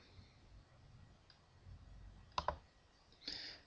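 A computer mouse gives two quick, faint clicks close together in a quiet room, followed by a soft brief rustle.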